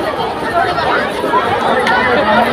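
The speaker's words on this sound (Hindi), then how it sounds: "चारों तरफ देखिए कितना ज़्यादा भीड़ है, दूर तक का पूरा देखिए बहुत ही ज़्यादा भीड़ है" A large crowd mills at the Jubilee Park gate in Jamshedpur, a dense, loud wash of overlapping chatter and voices close around with no single speaker standing out.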